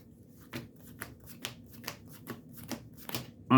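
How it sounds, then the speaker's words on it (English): Deck of Magic: The Gathering cards being shuffled close up, a series of about eight quick riffling bursts in a steady rhythm, alone in a quiet room. "we're shuffling up"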